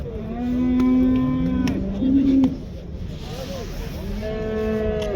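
At a livestock market in Kyzylorda, a year-old heifer moos loudly nearby, with two drawn-out calls over a busy background of other livestock and crowd noise.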